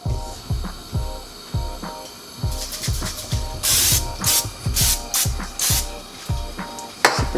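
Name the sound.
non-stick cooking spray sprayed into pan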